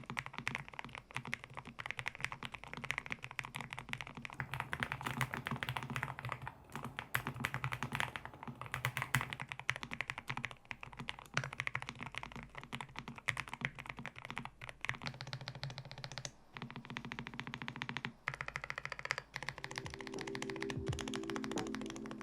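A Nufee mechanical keyboard in stock out-of-the-box condition is typed on continuously, a dense stream of quick, deep-sounding keystroke clacks at close range with occasional brief pauses.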